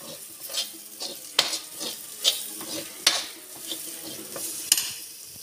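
Red chili powder and spices stirred in a hot pan over low heat for carrot pickle, with a steady sizzle under repeated scraping strokes of a spoon against the pan; no voices.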